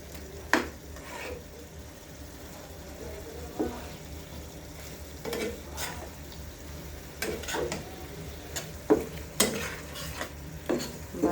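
Hilsa fish frying in a pan for mustard hilsa, with a steady low sizzle broken by repeated sharp clinks and scrapes of stirring and pan handling, close and moderately loud.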